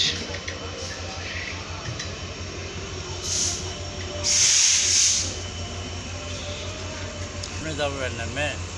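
Nilsagar Express (locomotive 6604) pulling out of Birampur station, a rhythmic low rumble of wheels with a loud hissing burst midway and a squeal near the end, close by.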